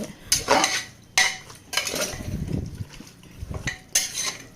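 A spoon scrapes and clanks against a pot while fried fennel, cinnamon and cloves are stirred for a Kerala-style beef curry in a cooker, giving repeated metallic scrapes with faint sizzling between them and no talk.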